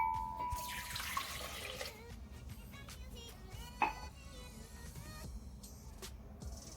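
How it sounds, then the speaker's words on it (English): Water from a tap runs steadily into a blender jug for mandarin cake batter, a continuous hiss with a brief clink partway through, close and alone. "In a blender, add the water,"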